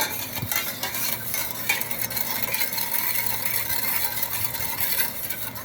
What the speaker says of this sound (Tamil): இப்போ இதை என்ன பண்ணிக்கிறோம் நல்லா கலக்கிக்கிறோம்